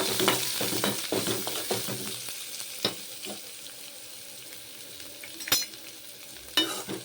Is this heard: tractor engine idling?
no